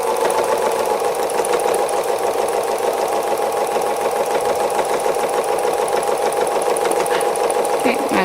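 Sewing machine stitching free-motion embroidery on a fabric owl wall hanging, a fast steady mechanical whir and needle patter running continuously and fairly loud, with a faint voice at the very end.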